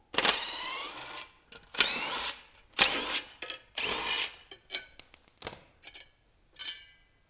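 Screws being backed out of the trim ring on a KMC beadlock wheel, a run of short ratcheting mechanical bursts separated by brief pauses, close and fairly quiet.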